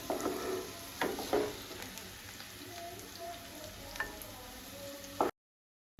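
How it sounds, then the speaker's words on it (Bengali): Mixed vegetables frying in oil give a soft, steady sizzle while they are lifted out, with a few sharp utensil clicks and clinks, before the sound cuts to silence. "আমার সবজিগুলোও ভাজা হয়ে গেছে। এবার সবজিগুলোকে তুলে নিচ্ছি।"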